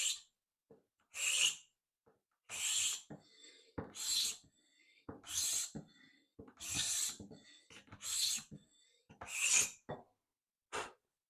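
Close, rhythmic scraping strokes of a Stanley No. 80 scraper plane rasp across wood, about nine in a row with brief pauses between, each a crisp hissing shave.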